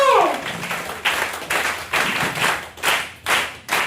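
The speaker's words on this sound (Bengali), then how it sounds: "ওই ওটা বিগ ক্ল্যাপিং" A group claps together at a training event, with sharp bursts of loud unison clapping repeating in a rhythmic pattern after a brief voice at the start.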